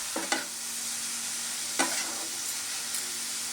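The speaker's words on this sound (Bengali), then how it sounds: "খেজুর গুঁড়োটা দিয়ে খুব ভালো করে নারকেলের সঙ্গে মিশিয়ে নেব।" Grated coconut and date jaggery stirred together in a pan, a soft steady sizzle with a few sharp scraping strokes of the spoon, close and moderately quiet.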